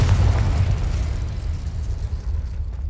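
A Confringo spell goes off in Hogwarts Legacy during a fight with spiders, producing a loud, deep explosive boom with a heavy rumbling tail that slowly fades over a few seconds.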